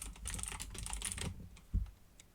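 Keystrokes on a computer keyboard typing into a basic text editor: a quick, soft run of clicks, then one louder tap, faint and alone.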